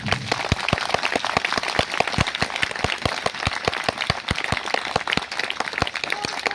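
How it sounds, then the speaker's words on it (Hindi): A crowd claps steadily together in a rhythmic burst of applause at a Buddhist festival, evenly paced and moderately loud, continuing for several seconds. "उनके लिए एक जोरदार ताली बजा दें"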